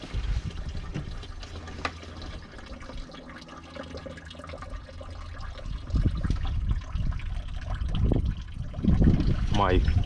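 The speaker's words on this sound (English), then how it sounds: "I'm gonna just quickly flush it through a little bit." Water flushing through the cooling system of a Peugeot 407 SW 2.0 HDI during a coolant change, a steady trickle and gush of liquid that swells louder toward the end, with talk over parts of it.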